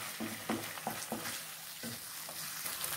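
Repeated scraping stirs of a spoon through chicken biryani masala in a pot with mint and coriander, several close strokes over a low steady sizzle.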